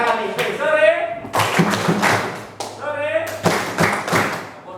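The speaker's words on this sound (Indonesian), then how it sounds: "Tepuk tangan, bukan tepuk bangku." Students in a classroom clap their hands and bang on desks in short bursts of sharp claps and thuds, loud and near, alternating with a teacher talking.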